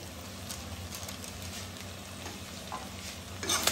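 Mutton kosha, cooked down until the oil separates and seasoned with pepper and garam masala, sizzles steadily in a pan while being stirred, with soft scraping scattered through the frying hiss and a louder clatter near the end.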